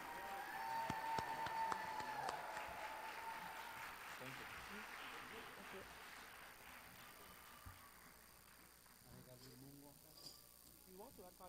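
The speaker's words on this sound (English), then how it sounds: "Let's give a round of applause for all of our graduates." Applause from graduates and guests at a WEI graduation ceremony, a soft, distant patter that is densest early and then fades, with voices talking throughout.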